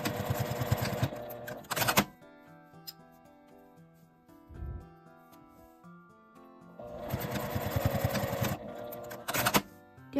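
A sewing machine bastes a small lined tote bag of Indian cotton seersucker cut cloth, running in two short rattling bursts at the start and near the end with a quiet pause between.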